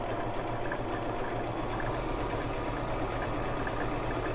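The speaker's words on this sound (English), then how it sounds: "now I'm going to sew. I'm going to go a little bit faster" A Brother LX3817 sewing machine stitches a zig-zag at a slightly faster pace, its steady motor hum and needle clatter running continuously and alone.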